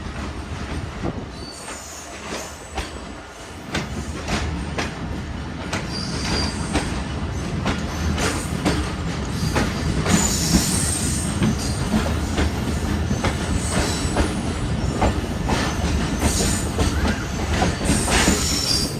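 Old, damaged Awam Express passenger coaches roll along the rails at Gambar railway station with a steady rumble, rhythmic wheel clatter and occasional high squeals, loud and continuous throughout.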